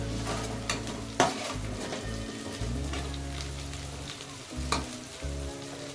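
Green chillies fry in a pan with a steady, close sizzle and crackle, broken by a couple of sharp pops and short bursts of stirring.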